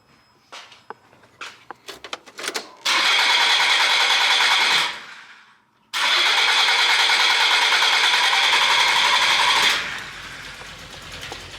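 A 1989 Nissan Pao with its timing badly off cranks after some clicks, then runs in two loud, rough bursts separated by a brief cut-out before dying away, close up with no talking.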